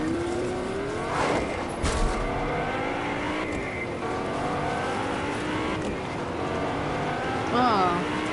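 An engine from a video game car in Battle Lab RP hums and shifts in pitch with smooth rising and falling revs, steady and close, with brief swells and a short whine near the end.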